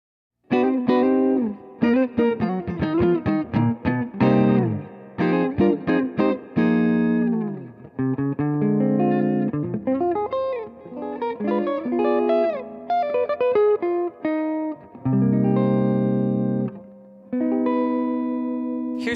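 An electric guitar plays through the top boost channel of a Vox amp, with the bass raised and the treble cut for a warm tone. A run of clean, ringing notes and strummed chords, some choppy and some held, played alone.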